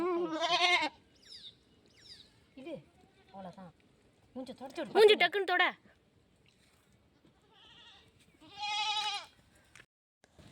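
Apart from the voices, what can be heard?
goat kid bleating during birth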